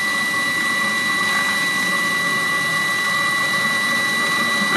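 A Webasto Thermo Top C motorhome water heater with its coolant pump circulating, giving a steady mechanical hum with fixed tonal whines under a constant whooshing flow, close and unchanging.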